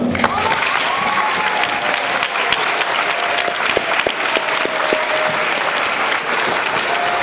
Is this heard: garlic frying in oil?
no